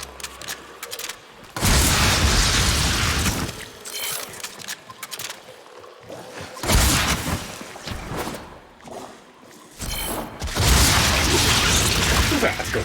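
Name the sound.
weapon fire destroying a hive in the video game Warframe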